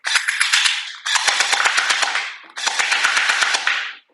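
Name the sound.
Glock 18 gel ball blaster firing in automatic mode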